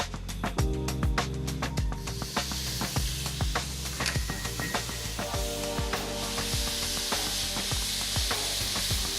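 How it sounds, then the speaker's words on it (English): Bacon sautéing in a pan without added oil as its fat renders, giving a steady, loud, close sizzle with crackling pops and occasional scraping stirs throughout. "I just saute that for 3 or 4 minutes until the fat starts to render out and it starts to go brown"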